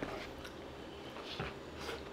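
Someone bites into crunchy, juicy McDonald's McSpicy fried chicken in Singapore, giving a few faint, close crunches over quiet background noise.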